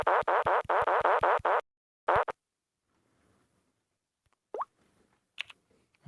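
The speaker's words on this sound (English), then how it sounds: "It's the sound of a fart." A fart sound effect from an Android keyboard app repeats as a rapid series of loud, buzzy bursts, then one more after a pause, followed by faint scattered clicks and short squeaks in near silence.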